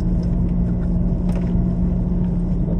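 A Ferrari accelerates on a circuit, heard as a loud, steady, low engine rumble from inside the car, with no talk.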